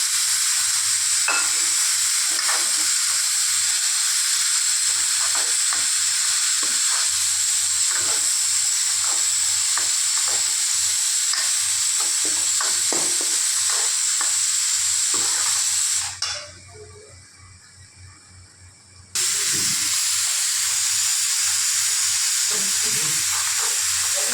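Chili, turmeric and coriander powder sizzle loudly and steadily in a hot pan, a dense continuous frying hiss with light stirring scrapes that dips briefly quieter before returning at full strength.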